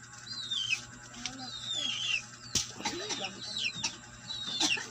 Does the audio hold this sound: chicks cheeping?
yes